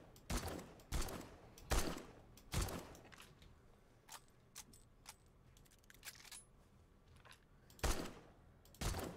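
Sharp gunshots from the survival video game 7 Days to Die, fired as spaced single cracks at irregular intervals, about a handful over several seconds, fairly loud against a quiet ambient background with no talking.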